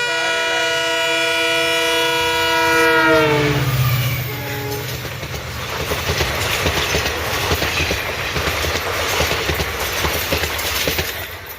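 Train passing a railway crossing: a loud sustained horn blast for about four seconds gives way to continuous close clattering of wagons rolling by, with no voices.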